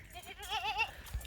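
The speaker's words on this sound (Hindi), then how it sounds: "खूबसूरत बकरियाँ हैं" Goats of the Pateri breed bleating on a goat farm, a few wavering, quavering calls close by over soft background noise, with no talk.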